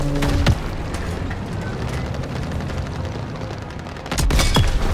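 Tank cannon fire in the Call of Duty WW2 video game, a loud booming blast at the start and another near the end, with steady battle rumble and scattered gunfire in between.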